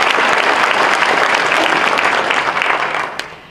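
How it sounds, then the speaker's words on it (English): Audience applause at a county board of education meeting, a steady wash of many hands clapping close and loud, fading out near the end. "we'd also like to give her a round of applause"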